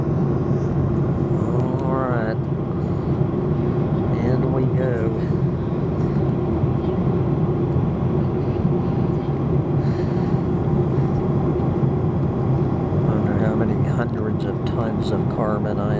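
Inside the cabin of a full passenger airliner flying toward Cancun through a thunderstorm, a loud, steady engine drone fills the whole stretch. Faint voices murmur beneath it.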